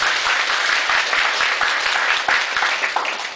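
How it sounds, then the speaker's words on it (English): A university audience claps for contestants at an English dubbing competition, dense and continuous applause filling the room and easing off slightly toward the end. "let's give our applause to our contestants and give them our best"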